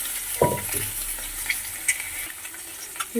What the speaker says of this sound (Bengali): বাকি যে তেলটা ছিল তাতে ডিমগুলো ভাজা হয়ে যাবে